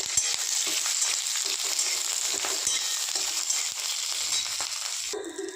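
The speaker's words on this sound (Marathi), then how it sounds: "आता याच्यात तेल टाकूया थोडंसं एवढं तेल टाकूया थोडी भाजू" Roasted chilies sizzle and crackle steadily in a small amount of oil, a close, continuous frying hiss with scattered sharp pops, ending with a brief stir.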